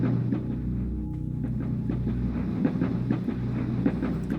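A ghost train in a video game rumbles with a steady low mechanical drone, its moving parts clicking and clanking rhythmically throughout at a fairly loud, close level.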